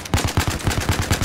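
Rapid automatic gunfire in a Battlefield 4 team deathmatch round on the Rogue Transmission map, about ten loud close shots in a steady burst with no talk over it.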